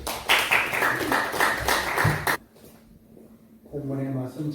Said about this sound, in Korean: 우리 박수로 환영하십시오